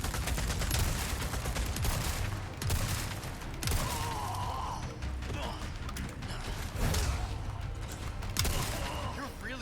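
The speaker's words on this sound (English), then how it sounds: "Stop shooting me!" Gunfire in Resident Evil 4 Remake fills the scene as rapid bursts and louder shots, mixed with mechanical clanks and game sounds, with voices talking over the action throughout.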